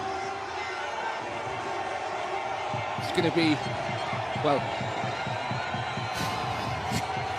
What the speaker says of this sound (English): Packed crowd as well.